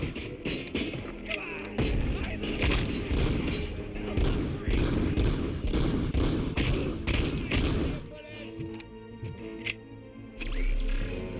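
Automated turret fire in RoboCop: Rogue City: dense, sustained gunfire and heavy thumps run without a break for about eight seconds, then drop away to quieter game sounds, with a voice talking over parts of it.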